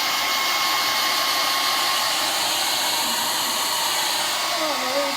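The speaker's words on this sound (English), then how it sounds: "My hair even tangles up as I'm blow drying it." A handheld hair dryer blows on long hair, giving a loud, constant airy whoosh that fills the whole stretch close up, with no talking over it.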